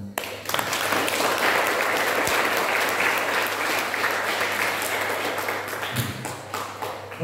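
Applause fills the room at a kids' retreat session, a dense, loud burst of many hands clapping that rises quickly and holds steady for several seconds before thinning slightly near the end.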